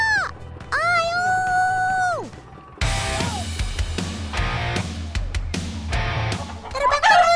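Chickens flapping and clucking as they are made to fly, with rooster-like calls and busy fowl noise over bright background music, fairly loud and continuous.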